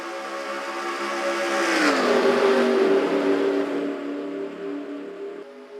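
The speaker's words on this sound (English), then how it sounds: "Chandler Smith and Casey Mears lead them down, and we are green in this first Duel race." NASCAR stock cars roar at the start of the first Duel race at Daytona in a video game, a dense pack of engines droning loudly with one rising then settling pitch as the field accelerates.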